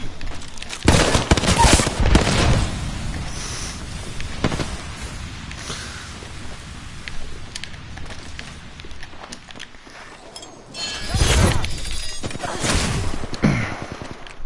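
Bursts of gunfire in a shooting video game, loud cracking volleys in several clusters separated by quieter stretches, with no speech over them.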